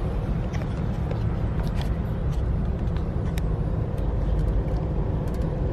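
Dense, steady traffic rumbles at the Bang Na intersection in a jam, a continuous low roar of idling and creeping vehicles with occasional brief higher clanks and hisses, no talk.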